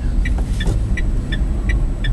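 A Citroen C-Zero electric car drives in traffic, giving a loud steady road rumble and tyre roar with a faint repeating high tick or whine pulsing regularly throughout.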